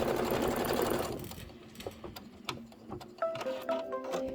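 An embroidery machine starts stitching quilt detail, a steady rapid mechanical whir at first, then settling into clattering ticks and thumps with rhythmic motor tones, close and alone.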